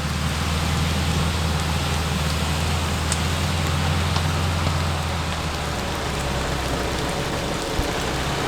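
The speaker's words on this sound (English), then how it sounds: "the rain has picked up since we hit this track" Rain falling steadily during a 4WD trip on a wet track near Coffs Harbour, a dense continuous patter over the low hum of the vehicle's engine and tyres, with no talk.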